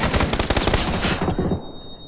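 Rapid automatic gunfire from a video game rattles in quick bursts for about a second and a half, loud and dense, then cuts off into near silence.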